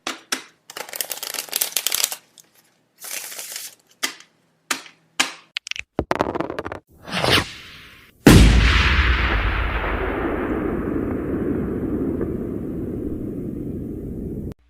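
Transition sound effect built from rapid card shuffling, rattling dice throws and a firework, heard as dense clustered bursts of crisp clicks and riffles ending in one loud boom with a long, fading crackling tail.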